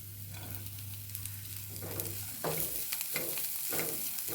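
Curry leaves and coriander leaves fry in a hot pan with a steady close sizzle, which jumps louder as more leaves drop in and is broken by scraping stir strokes.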